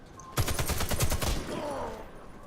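In the video game Warface, the machine gun version of the G36 fires a rapid burst of about a dozen shots, close and sharp. The shots are followed by a fading tail with a faint background tone.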